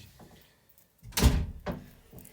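A door closes in a video game, with a quiet lead-in followed by a loud thudding slam and a second softer knock shortly after.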